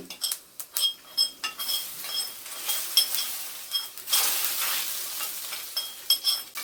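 Hot oil crackles and spits in short bursts as a tempering for horse gram rasam, with metal utensils clinking against a pan close by.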